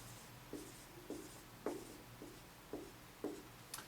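A pen writes numbers by hand on paper, six short, crisp scratchy strokes at a fairly even rhythm, heard close and quiet, with no talk.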